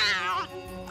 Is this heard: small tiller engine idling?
no